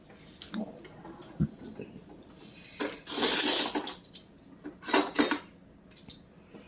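Big metal spoon scraping and clinking against a pot while scooping fettuccine Alfredo pasta, a few scattered clanks building to a louder rattling scrape, then more metallic clinks.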